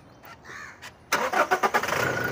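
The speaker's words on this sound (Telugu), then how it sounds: "एक बार गाड़ी स्टार्ट करो." A 2017 Toyota Innova Crysta automatic, Z variant, cranks once and fires up, then settles into a loud, close, pulsing idle after a quiet, faintly clattering start.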